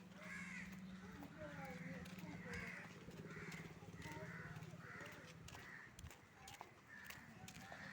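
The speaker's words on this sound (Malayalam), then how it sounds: "അതാ ഇതൊക്കെ എന്തോ കുറച്ച് കാക്കകൾ ഇവിടെ ഇരിക്കണം." A group of crows caws repeatedly in a steady, rhythmic series of harsh calls, moderately near, over constant low background noise with faint talking.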